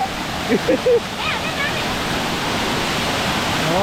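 Rushing waterfall pours in a steady broadband roar throughout, very cold falls water during a friends' trip toward Chikmagalur, with brief voices and splashing sounds near the start.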